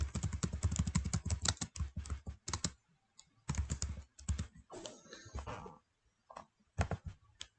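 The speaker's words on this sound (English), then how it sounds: "And then you can type whatever you want." Rapid typing on a computer keyboard while designing a card in Cricut Design Space, close and clear, coming in bursts of quick clicks separated by short pauses.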